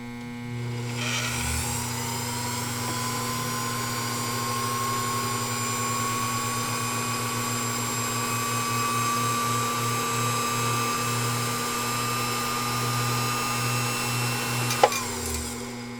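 A heavy-duty Pfaff 229 sewing machine with its original motor running and the clutch disengaged: a steady electric hum with a whine that rises as it spins up, holding evenly for about fourteen seconds before cutting off.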